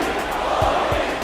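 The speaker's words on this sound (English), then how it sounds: "Amid chants of Modi, Modi" Large crowd at the Alphonse Stadium in Sydney, a continuous dense roar of many voices with low rhythmic swells suggesting chanting, steady and loud throughout.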